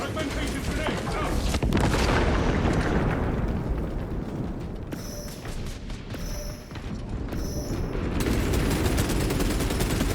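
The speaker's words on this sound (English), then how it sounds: "Fragmentation grenade out." In the video game Space Marine 2, a fragmentation grenade goes off amid dense PvP combat, its booming blast layered over constant gunfire and clatter, with a few brief beeping tones cutting through the loud, chaotic mix.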